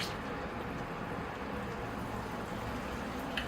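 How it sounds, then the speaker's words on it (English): Water poured onto bonsai soil while repotting a dwarf schefflera, the soil soaking it up with a continuous soft fizzing, crackling hiss, close and steady with no talk. "You can hear the soil sucking up the water."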